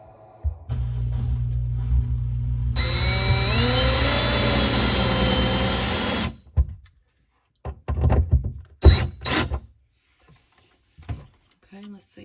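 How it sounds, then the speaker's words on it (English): A power drill drives screws into a pre-started pilot hole while installing a Waterdrop 15UAW-UF under-sink ultra filtration water filter, a loud steady whine running about five seconds with rising pitch, followed by thumps and brief talk. "I already started a little pilot hole, so easier to get the screws in."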